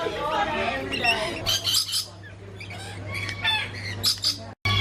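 Harsh bird squawks ring out in bursts over a steady low hum, with people talking throughout.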